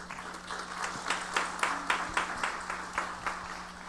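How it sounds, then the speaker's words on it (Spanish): An audience at a legal conference on indigenous peoples and intercultural law applauds: a quiet, somewhat distant patter of clapping with a few louder rhythmic peaks over a faint steady hum. "a quien recibimos con un fuerte aplauso"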